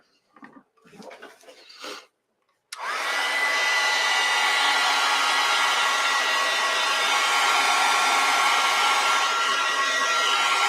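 A dryer switches on with a sudden loud whoosh and blows steadily to dry an acrylic painting of a snow globe winter cottage, following a few brief, faint sounds.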